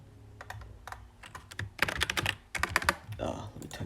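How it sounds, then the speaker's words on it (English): Fingers type on a computer keyboard in quick irregular bursts of clicking keystrokes, close and moderately loud, with faint speech in the background. "Let me type it in."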